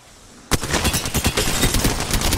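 Rapid automatic gunfire in a video game bursts in abruptly after a quiet half second, then rattles on continuously in a loud, dense stream of shots.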